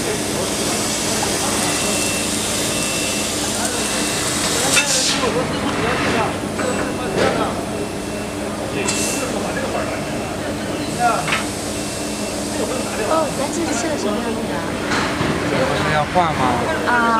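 A 2000W fiber laser cutter slices 2mm carbon steel with a continuous, loud, gassy hiss and rushing roar. Occasional sharp bursts rise above it, and people talk throughout.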